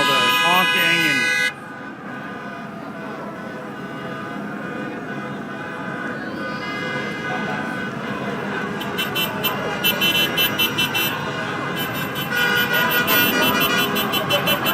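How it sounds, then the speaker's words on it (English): Car horns honk in congested traffic, including air horns, sounding repeatedly in short bursts and longer blasts over a steady rumble of road noise and engines. "you couldn't even hear the ambulance coming over all the honking"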